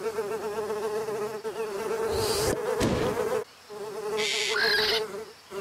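Flies buzz close and loud in a continuous droning hum whose pitch wavers as they move, with a brief dip midway.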